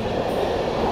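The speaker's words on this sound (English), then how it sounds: "And the train is very loud" A loud train rolls past close by, its steady roar filling the whole second with no break or voices.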